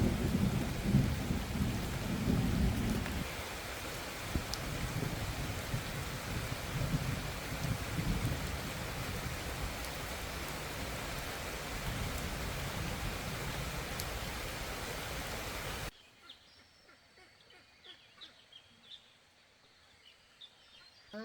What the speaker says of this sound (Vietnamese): Mưa này chả biết đi nào được.